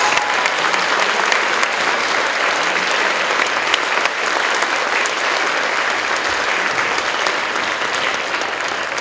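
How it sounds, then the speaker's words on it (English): A school audience applauds fifth grade orchestra students at a concert, sustained clapping from many hands at an even level, with a faint murmur of the crowd underneath. "Let's give a round of applause."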